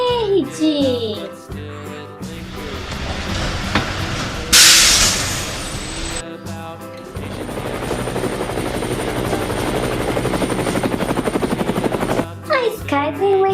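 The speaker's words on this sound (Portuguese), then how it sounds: "A Sky tem um helicóptero rosa com cinza." A pink-and-grey helicopter in a Paw Patrol video game whirs with a loud, steady, rapidly chopping rotor sound, with game music and short bursts of effects before and after.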